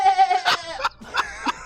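A person imitates a goat's bleat into a close microphone, giving several wavering, nasal bleats in quick succession with short breaths between them.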